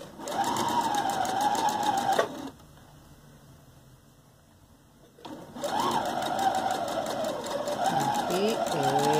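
Close sewing machine stitching a fabric dog toy, running in steady bursts with a pause in the middle, while someone talks over it.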